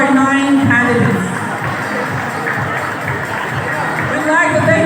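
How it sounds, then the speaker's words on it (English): A pageant crowd at the Miss Queen Bahaghari Itogon 2023 event cheers and applauds its nine candidates, a steady wash of clapping and voices throughout, swelling again near the end. "a big round of applause to all of our 9 candidates"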